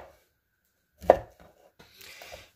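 A knife chops through a pineapple on a cutting board: one sharp, close chop rings out, followed by a few lighter taps and a softer scraping, with quiet pauses between.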